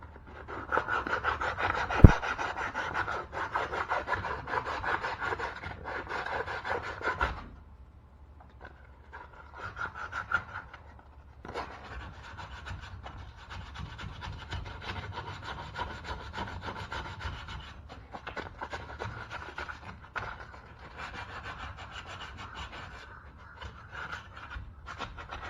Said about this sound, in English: So I got it sanded out with the 150.